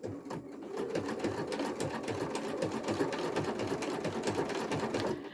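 A sewing machine stitches a seam across a crazy-quilt block, its needle thumping in a fast, even, continuous rhythm close by, stopping just at the end with no one talking.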